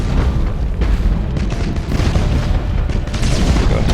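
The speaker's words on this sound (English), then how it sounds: "Now firing the torpedoes at him." Heavy rumbling explosions from torpedo hits in the space battle game Battlefleet Gothic: Inquisition, a continuous loud booming barrage with dense low-end impacts and no voices.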